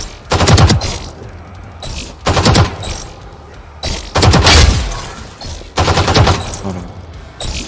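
Bursts of gunfire from a Valorant weapon with heavy bloom and a small magazine, fired in three or four separate rapid volleys with short pauses between, loud and close with no talk.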